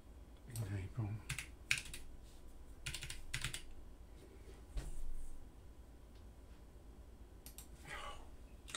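Fast, uneven typing on a computer keyboard during STM32 programming work, with clustered bursts of key clicks and pauses, fairly quiet and close, with soft talk at moments.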